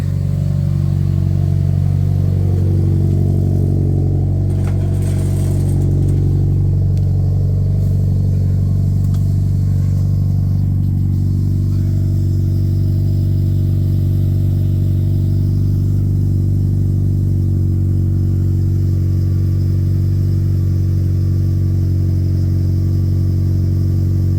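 Mitsubishi Evo 9 engine idling steadily during a 30k service, a loud, continuous low rumble that holds even throughout, with faint clanks and handling noises near the start.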